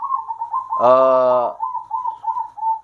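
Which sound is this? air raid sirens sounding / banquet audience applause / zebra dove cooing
zebra dove cooing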